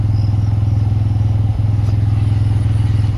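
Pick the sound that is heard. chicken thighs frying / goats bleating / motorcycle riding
motorcycle riding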